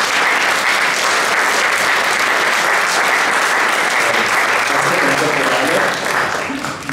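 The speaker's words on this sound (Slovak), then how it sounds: "Môžeme ho privítať tiež potleskom." Audience applause at a summer-holiday school event, welcoming the headmaster of an elementary art school; steady, dense clapping from a crowd throughout, easing slightly near the end.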